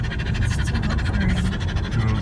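A dog pants rapidly and steadily, close by, with a quick even rhythm of breaths over low outdoor rumble near a river campsite, no talking.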